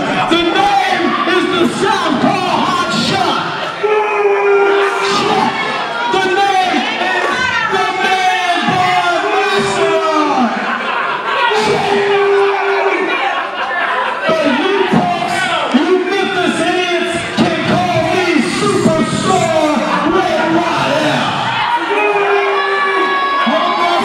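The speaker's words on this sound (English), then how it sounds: "The crowd is letting him know how he feels." A wrestling crowd at a hardcore match reacts to Ray Waddell with sustained shouting, chanting and jeering from many voices, loud and continuous, while a commentator talks over it.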